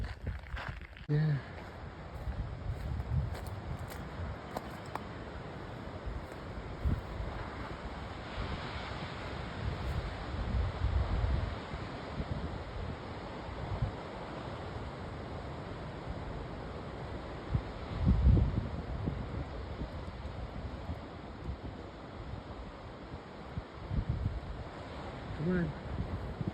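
Cool, steady coastal wind blows across the microphone on a hiking trail at Año Nuevo State Park, with surf rolling in the background and gusts swelling louder around the middle.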